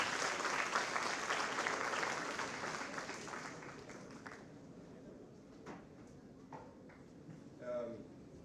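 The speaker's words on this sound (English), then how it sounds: "Let's have a big round of applause for the time to come." Applause from a conference audience at an international AI conclave swells for a few seconds, then dies away into a quieter hall with scattered knocks and shuffling.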